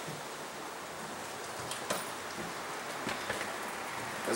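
Steady rain falling outside a trailer, a soft continuous hiss with occasional louder drips and patters close by.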